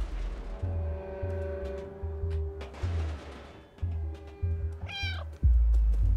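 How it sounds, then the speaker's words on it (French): A cat in the video game Stray meows repeatedly, short close mews spaced through the scene, with one higher, wavering cry near the end over a low game rumble. "Petit chat."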